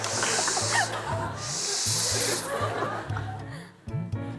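A voice mimics a rattlesnake's rattle with repeated harsh, breathy hissing bursts before a live audience, whose laughter and chuckles run underneath throughout.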